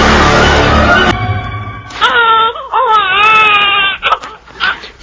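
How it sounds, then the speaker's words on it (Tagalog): Infant wailing loudly and close in a dramatized scene, a long strained cry breaking into rising and falling sobs with gasps between them. "Parang may umiiyak na sanggol sa loob."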